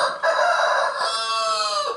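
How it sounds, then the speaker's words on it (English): A rooster crows once on a farm, loud and close, a drawn-out strained call that tails off at the end. "the roosters are still crowing"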